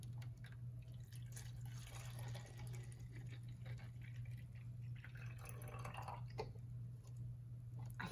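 Liquid is poured into a bottle for a soap and food coloring science activity, a faint trickling and dripping over a steady low hum with no talking.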